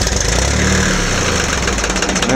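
A Ford 1710 tractor engine runs steadily after being given fuel, a close, continuous rough idle with a low, even rumble.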